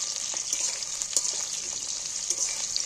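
Chicken pieces frying in hot oil for a desi-style chicken curry, a steady close hiss and sizzle with faint crackles and occasional stirring clicks, no voices.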